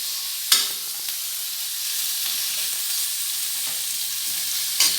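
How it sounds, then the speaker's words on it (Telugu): Onions fry in oil in a pan with a steady, close sizzle, broken by a couple of sharp bursts as they are stirred or added. "పెనం పెట్టి ఆయిల్ వేసి కొద్దిగా ఆనియన్స్ పెట్టేసాను"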